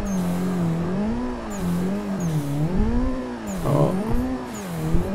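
A 333hp Nissan 180SX engine in a drifting video game revs in steady rising and falling waves, loud and close, with brief throttle blips and a sharper burst near the end.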